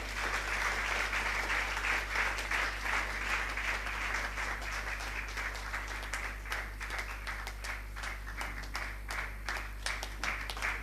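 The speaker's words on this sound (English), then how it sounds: "Would you please give a good clap?" Audience at a Bible college graduation ceremony claps for an honoree receiving a Doctor of Divinity, individual claps audible as a loose rhythmic patter over a low steady hum, continuing for several seconds.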